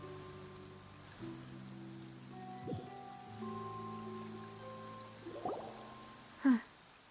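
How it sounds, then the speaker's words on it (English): Steady soft rain falls in the video game Genshin Impact, a faint hiss under sustained musical tones, with a brief louder splash near the end. "It's been raining non-stop for..."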